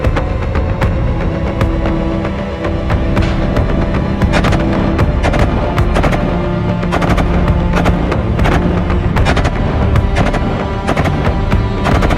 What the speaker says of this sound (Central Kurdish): ئامانجەکە ئەوەیە کە بە چەندین زۆر چەک تاقە لەم ئۆتۆمبیلە بکەی گولە نەیبڕێت